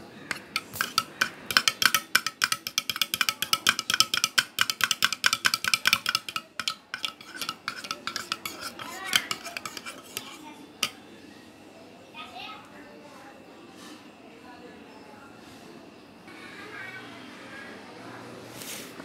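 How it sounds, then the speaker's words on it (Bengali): A spoon stirs sour yogurt with mango in a bowl, tapping and scraping in a quick, steady rhythm for several seconds before tapering to quieter, sparser clinks, with voices in the background. "টক দই নেড়ে চেড়ে এখন একটু মিশিয়ে নিচ্ছি"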